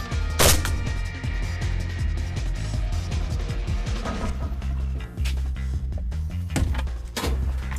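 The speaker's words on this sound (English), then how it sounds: "A number of shots were fired." AK-47 rifle shots fired at the steel of a Ford-based armoured vehicle, a loud series of sharp bursts over steady low rumbling background noise, with repeated cracks spread across the stretch.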